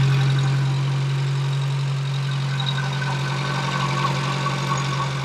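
A Porsche 924 Turbo with Bosch K-Jetronic fuel injection idles steadily and close by, an even low engine drone with a faint ticking texture running throughout and no talking.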